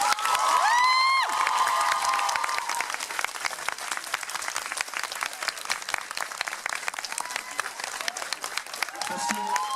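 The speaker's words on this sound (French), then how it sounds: "Je demande les applaudir très très fort, s'il vous plaît." A large crowd at a French TV series' end-of-year party claps loudly and cheers, with whoops and shouts at the start over sustained, dense applause that stays strong to the end, and voices rising briefly near the close.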